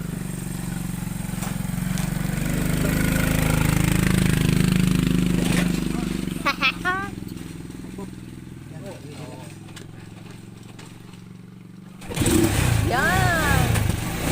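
A motorcycle on a bread delivery run roars steadily nearby, swelling then easing, while people talk over it; the engine drops away briefly and then returns with a louder burst.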